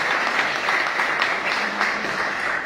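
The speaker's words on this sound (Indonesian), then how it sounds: "Kami boleh tepuk tangan untuk semua yang bekerja luar biasa." A crowd at a church inauguration ceremony in Jakarta applauds, a steady, fairly close wash of many clapping hands lasting the whole stretch.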